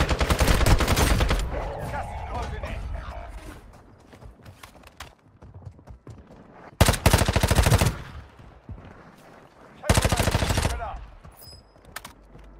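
Gunfire in Call of Duty Warzone Mobile on Rebirth Island comes in three loud rapid bursts separated by quieter stretches of movement and faint game sounds.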